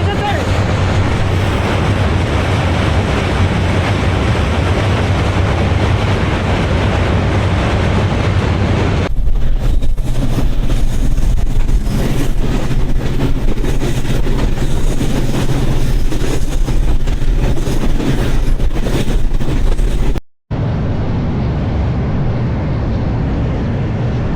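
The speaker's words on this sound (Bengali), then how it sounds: "আরো একটা ট্রেন কিন্তু চলে" A train runs near the Hardinge Bridge, the 112-year-old British-built railway bridge, giving a loud, steady rumble with strong wind buffeting that lasts most of the clip, shifts in tone midway and cuts out briefly near the end.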